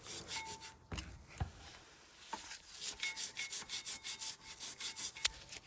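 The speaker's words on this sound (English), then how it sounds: "I'm going to use a very soft brush that I have." A soft brush scrubs the front brake caliper of a Mercedes S-Class W221 S350d, making quiet, rhythmic back-and-forth rubbing strokes that speed into a regular run of close, even strokes.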